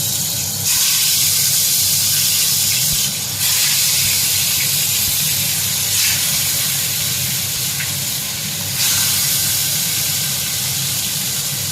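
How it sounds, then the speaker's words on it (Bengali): Aar fish frying in a pan of hot, spattering oil gives a loud, steady sizzle and hiss that stays constant throughout, with brief dips in intensity. "এই আড় মাছ কিন্তু একটুখানি তেল ছিটকায় আর কি, একটু সাবধানে করবেন"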